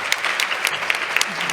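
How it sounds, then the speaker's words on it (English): Audience applause for speakers at an oncology conference session, a brief burst of dense crowd clapping at a steady level with a few sharper individual claps standing out. "Let's give a round of applause for our speakers."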